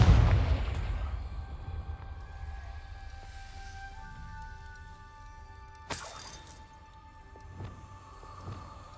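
A Confringo blasting spell in Hogwarts Legacy goes off as a loud, close explosive burst that rumbles and fades over a few seconds, followed later by a sharp crack and a few smaller debris-like hits.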